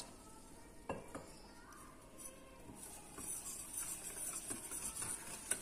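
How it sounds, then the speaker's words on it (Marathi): Milk being poured and stirred into an eggless chocolate pudding mixture with cardamom powder and salt, producing soft scraping, swishing and liquid stirring close by, with faint clinks and no talking. "आता यामध्ये मी थोडं थोडं दूध टाकून घेणार आहे"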